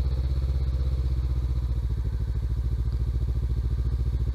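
A motorcycle engine idles close by with a fast, steady rhythmic thrum, the throttle eased up gently so the beat quickens slightly.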